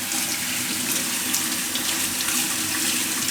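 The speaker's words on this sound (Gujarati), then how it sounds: "આ ભાજીને એકવાર ધોઈ નાખશું આપણે આ રીતે" Steady running water splashing into a sink, continuous and fairly loud, with dill leaves being rinsed under the flow.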